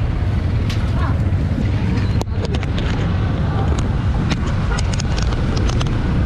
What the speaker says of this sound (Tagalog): Traffic, aray ko.